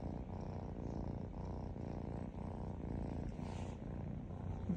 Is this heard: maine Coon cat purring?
yes